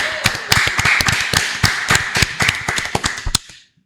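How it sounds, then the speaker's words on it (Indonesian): Sparse, uneven clapping from a small group at a billiards association gathering in Cilegon, sharp separate claps close by that thin out and stop after a few seconds. "Tepuk tangan dulu"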